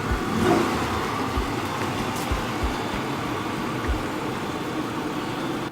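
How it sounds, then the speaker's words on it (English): A car engine runs steadily while the car reverses after an oil change with fully synthetic oil, giving a close, even drone with a few low thumps and no voices. "you want to move back the car and then stop the engine a little bit just to see"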